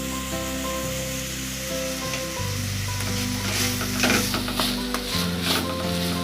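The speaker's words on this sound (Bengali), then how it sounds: "একটু হালকা সটে করে নিয়ে, বেশিক্ষণ না, জাস্ট নাড়াচাড়া করে" Carrot, onion and French beans sauté in a hot pan with a strong continuous sizzle, joined by scraping stirring strokes that grow busier midway, with no voices.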